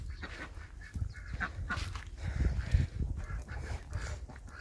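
A flock of ducks quacks and honks near corn on a farmyard, loud, dense and continuous at close range, with rustling and handling noise mixed in.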